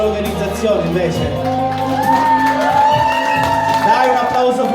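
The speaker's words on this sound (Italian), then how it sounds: "facciamo un grande applauso a tutta l'organizzazione invece" A live event crowd shouts, whoops and cheers loudly and continuously, with voices calling out through a dense, sustained roar and no clear clapping.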